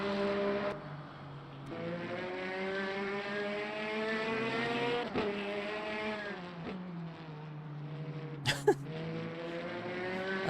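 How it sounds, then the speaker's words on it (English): A Peugeot race car in the Le Mans Ultimate sim racing game at Qatar holds a steady, rising and falling engine drone with layered harmonics, then gives a short burst of sharp exhaust crackle pops near the end. "I like the exhaust crackle though."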